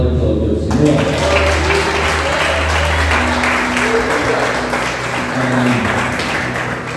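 A church congregation applauds in a dense, sustained wash of clapping, while a voice speaks over it and a single word is heard.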